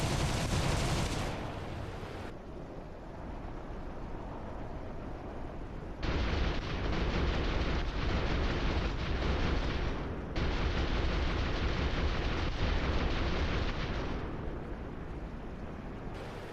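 A flight simulator game: sustained bursts of rapid machine-gun fire aimed at a bomber formation, dense and loud, stopping briefly after a couple of seconds, then resuming in long continuous volleys over steady engine roar.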